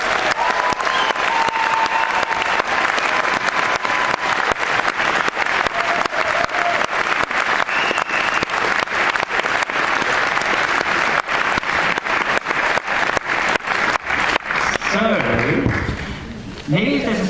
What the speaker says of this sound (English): So please give a round of applause for the producers.